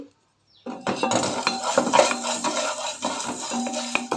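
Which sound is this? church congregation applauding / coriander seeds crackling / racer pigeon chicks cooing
coriander seeds crackling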